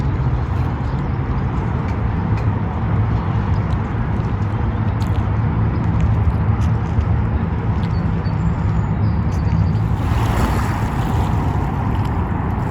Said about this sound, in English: Look, there's a steamboat right now. It's going a lot faster than I expected.